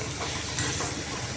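Fish oil frying in a pan, a steady crackling sizzle with faint stirring clicks and one brief sharp tick, close and unbroken, no talking.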